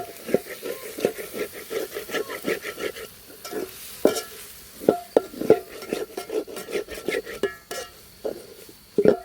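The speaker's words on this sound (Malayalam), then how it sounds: "ഇത് നന്നായിട്ടൊന്ന് ഇളക്കി കൊടുക്കുക കേട്ടോ" A spoon scrapes and clatters against a pan while salted beef curry gravy is stirred, giving a steady rhythm of close scraping strokes with soft sizzling underneath and no voices.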